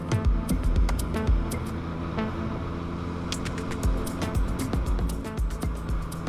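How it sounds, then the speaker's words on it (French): A Yamaha XSR900 Abarth three-cylinder motorcycle engine hums steadily with a throaty, even drone, with faint ticking and road noise over about six seconds and no talking. "Le bruit du 3 cylindres, il est vraiment trop bien."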